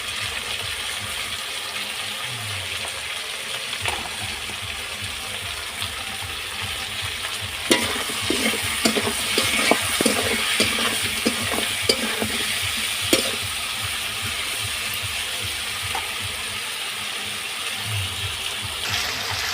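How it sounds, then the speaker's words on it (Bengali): Potatoes with a little salt fry in a pan, a steady close sizzle with rhythmic metallic scraping and clinking of a spatula stirring throughout, busier and louder in the middle stretch, with no talking. "একটু নুন দিয়ে আলুগুলোকে ভাজবো।"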